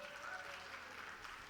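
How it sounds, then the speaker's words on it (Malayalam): Applause from a musical-night concert audience, a steady, moderately faint wash of clapping that carries on without a break for its whole short length. "നല്ല പടക്കം പൊട്ടുന്നതിലൊരു കൈയടി തന്നെ നോക്കട്ടെ."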